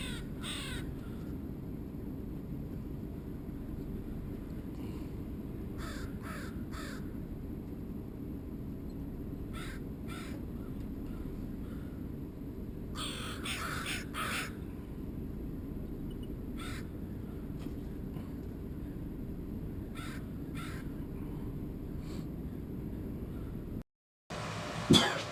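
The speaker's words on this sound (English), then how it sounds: "And the crows will come in and vacuum up the little teeny pieces." Crows caw repeatedly in short clustered bursts outdoors near a boat repair spot, over a steady low background rumble; no one speaks.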